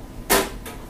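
The door of a Mini Classic II countertop water distiller swings shut with one quick, close clack and a fainter second tap just after, in a quiet room.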